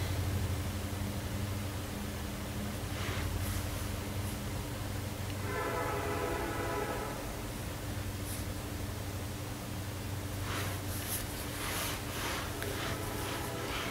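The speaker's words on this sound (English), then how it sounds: "There's that train." A train rumbles past in the distance, a steady low roar with a faint horn-like tone rising briefly midway.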